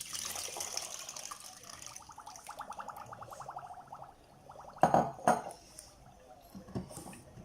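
Lemon juice and sugar are stirred together in a bowl, a soft wet sloshing and clinking with rhythmic stirring strokes, followed by a couple of sharp utensil knocks and quieter liquid movement.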